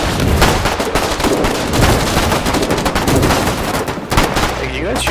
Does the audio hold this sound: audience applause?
no